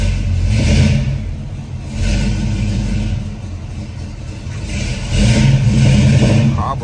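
A four-door G-body Oldsmobile Cutlass on 26-inch wheels with a carbureted engine, rumbling loudly and close up in three swelling revs over a steady low idle, with no voices.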